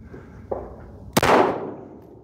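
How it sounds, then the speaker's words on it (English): Shots from a Shadow Systems pistol at an outdoor shooting range, a softer pop followed by one sharp, loud report with a short ringing decay, close and alone. "Whenever you're ready, sir, the range is hot. You may begin firing."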